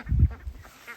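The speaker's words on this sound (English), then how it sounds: "Look at all these ducks" Ducks at a backyard pool give a short burst of honking quacks, loud and close, a few rough calls crowded into under a second, with a fainter call trailing after.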